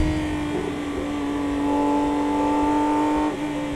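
A 2024 Porsche 911 ST accelerates hard, its engine note climbing in steady rising harmonics, loud and close, with a brief dip near the end as it shifts gear.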